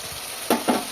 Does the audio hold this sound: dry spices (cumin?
yes